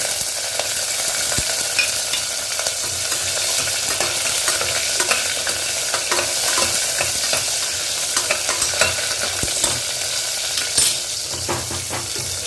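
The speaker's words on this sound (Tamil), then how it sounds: "சாம்பார் வெங்காயம் நல்லா வதங்கட்டும்" Garlic and small sambar onions sauté in a pan for a Tamil wedding-style vatha kuzhambu, a steady close sizzle with frequent scraping stir strokes throughout and no talking.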